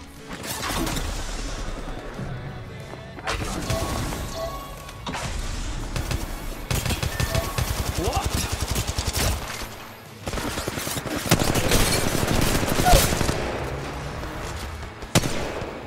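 Gunfire in the mobile shooter Apex Legends Mobile comes as dense rapid bursts and crashing impacts, loud and nearly continuous over game effects.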